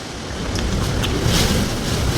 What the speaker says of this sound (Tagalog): Grabe, ang laki ng hangin guys.